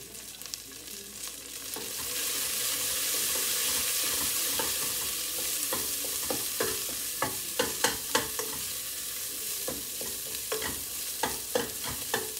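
A ham steak sizzles in a pan under a constant hiss that swells and then settles, while sharp clacks and scrapes of a utensil against the pan come through near and fairly loud.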